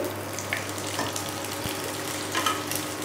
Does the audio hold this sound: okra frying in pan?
yes